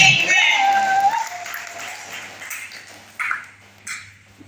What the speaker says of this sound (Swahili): Pigie Bwana Yesu makofi kama mwenyewe